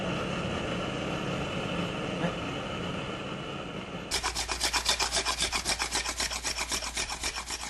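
Sandpaper rubs bamboo in quick, even back-and-forth strokes close up, following a few seconds of duller, steadier noise.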